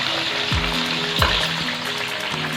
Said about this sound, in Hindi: जीरा हमारा भुन गया है, ये अब हम इसमें प्याज ऐड करेंगे।